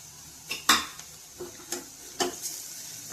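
Garlic and asafoetida sautéing in hot oil for a bitter gourd stir-fry, with a soft sizzle beneath a few distinct spoon clinks and scrapes against the pan, spaced irregularly, no talk.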